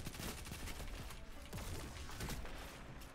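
Faint, dense gunfire from a Dead Messenger weapon build in a video game, a continuous crackle of shots and impacts that runs steadily throughout without any talk.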